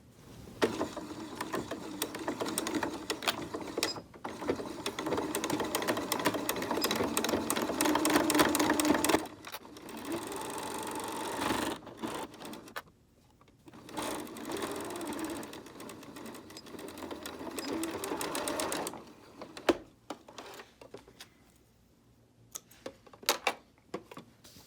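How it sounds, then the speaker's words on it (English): A sewing machine stitches a straight seam across potholder fabric, running in long steady mechanical bursts with brief pauses and clicking starts and stops between runs. "join these together, right sides together, and sew a line straight across."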